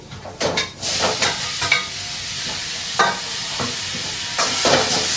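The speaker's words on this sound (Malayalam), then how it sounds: "നന്നായി വഴറ്റി തക്കാളി ഉടച്ച പോലെ ആക്കണം" Onions and tomatoes sauté in a pan for a quick curry to serve with chapati. A loud, continuous sizzle runs under repeated scraping stirs.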